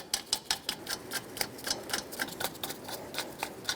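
Lug nuts being run down onto the wheel studs of a 2012–2018 Nissan Altima give a faint, rapid, irregular ticking and clicking, close by and quiet.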